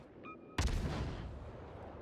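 Naval guns fire in World of Warships as a warship shoots from inside a smoke screen: a brief tone, then one sudden heavy boom with a long rumbling tail, loud and close.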